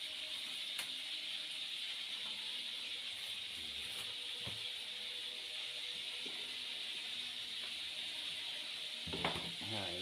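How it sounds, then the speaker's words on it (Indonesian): Water spinach (kangkung) cooks in a pan with a steady sizzle and hiss of steam, faint and continuous, with occasional stirring clinks and soft voice at the end. "Sekarang kita goreng, kita rebus sayur kangkung."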